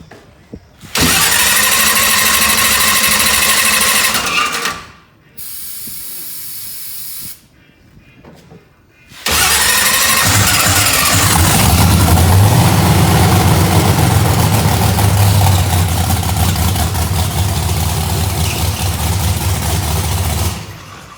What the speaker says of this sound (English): Don't worry about the starter noise.